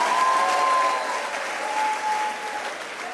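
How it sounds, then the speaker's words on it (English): An audience at a school distinction awards ceremony claps for a prize winner, a steady, moderately loud burst of applause that eases slightly toward the end. "A round of applause for Melissa."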